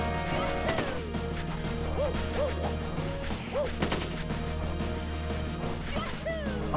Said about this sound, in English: it's when he makes the little gunshot noise, he's comes at you fast, but only in a straight line